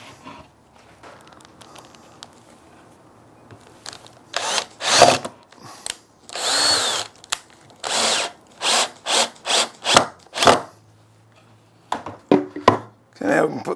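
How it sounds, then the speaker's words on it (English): A power drill drives screws into a wooden foot stool made from reclaimed timber. Several loud bursts of whirring come in quick succession, some short and some longer, with quiet handling noise between them. "Now we can pop the screws in."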